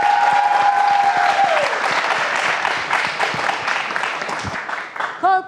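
Rhythmic audience clapping along to a patriotic song dedicated to the Lebanese army, dense and steady throughout, with a sung melody over it at the start and again at the end.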